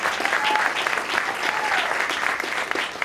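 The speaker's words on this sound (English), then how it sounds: "Take your round of applause" A room full of people applauds at a boxing event announcement at the Ali Center in Louisville, a brisk, continuous patter of many hands with faint crowd voices beneath.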